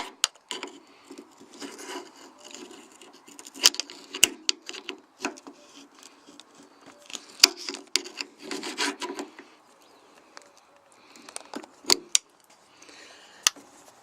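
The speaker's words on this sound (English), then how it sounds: "grab yourself a screwdriver and prise that off" A screwdriver prises the fuel pipe off a Kawasaki ZX9R Ninja fuel tank, producing close, irregular scraping, rubbing and clicking noises with sharp ticks scattered throughout.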